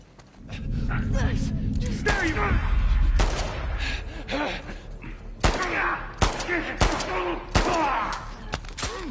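Gunfire in The Last of Us Part II, a loud flurry of shots at first, then sharp single shots spaced a second or so apart, with a player's voice gasping and speaking over it.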